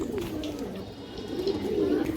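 A female pigeon coos steadily and close by, a low throaty rolling coo running through the whole short stretch with no clear pauses.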